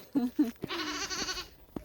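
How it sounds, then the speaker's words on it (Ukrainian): Two short goat bleats up close in a rural village, followed by a longer, wavering bleat, with light rustling around them. "І коза ось одна. Ходить. Ще одна коза. Дві кози"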